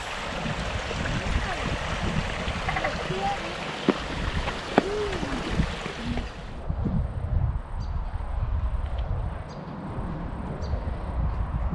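Waterfalls pouring at a zoo, a steady broadband wash of falling water that runs throughout at even loudness, with voices faintly underneath.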